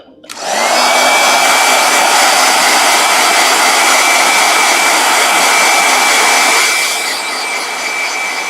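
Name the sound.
blow dryer running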